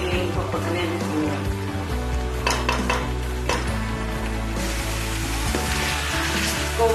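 Koftas stirred gently in a pan of sizzling masala for lobia kofta curry, with soft scraping and clinking of a utensil against the pan over a steady frying sizzle throughout.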